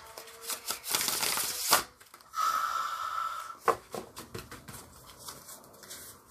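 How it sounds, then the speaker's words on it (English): Ancestral Healing oracle card deck being shuffled by hand, bursts of crisp riffling and flicking card sounds in short separate runs, fairly close and quiet, with no talking. "I always like to show it at this angle so you can see how it shuffles."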